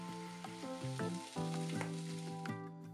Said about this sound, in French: dorer les peaux en les salant